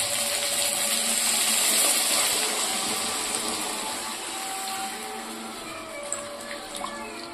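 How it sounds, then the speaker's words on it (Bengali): Water is poured into a pan of fish cooking on the stove, a broad rushing hiss that fades slowly, then a few small knocks near the end, with no voices. "এখন জল দিয়ে দেবো।"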